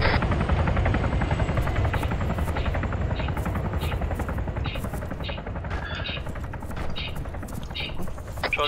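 A helicopter on a landing approach in the military video game ARMA 3 keeps up a steady, heavy rotor thump throughout, with sharp bursts of gunfire cracking over it.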